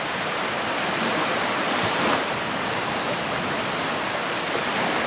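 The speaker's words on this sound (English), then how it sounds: "Water splashing up and down on them" Waves at Ruby Beach wash and splash over coastal rocks in a constant loud hiss of water, with one slightly stronger surge about midway, close by and without speech.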